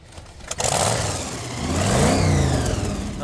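A gasser wagon's supercharged engine fires up and revs, its blower whine rising and falling over a loud, rumbling exhaust, close by and steady throughout.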